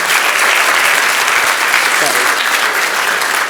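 An audience gives Kevin and Katie a round of applause at the close of a Culture by Design program, a loud, dense wash of clapping that holds steady for the whole stretch, with a voice briefly audible underneath.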